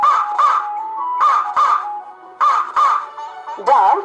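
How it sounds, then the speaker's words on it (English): A crow caws in short, harsh calls, usually in pairs, with brief pauses between them. The calls are close and clear against silence. "Crow,"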